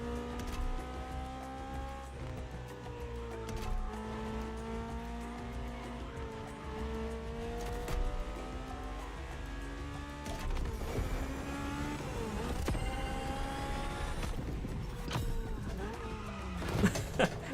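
Cars race in the video game The Crew Motorfest, among them a Liberty Walk Supra and an NSX, with rising and falling engine revs, shifting gears and tire squeals layered over one another at moderate volume.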